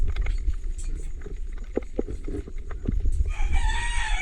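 A chicken clucks and crows at a distance amid a low outdoor rumble and scattered small knocks.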